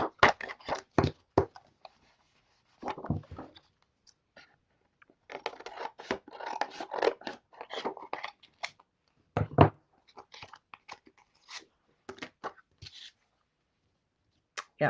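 Scissors snip through paper while junk-journal pages are trimmed at a craft table, producing irregular bursts of crisp cutting and rustling separated by short pauses, close and fairly quiet.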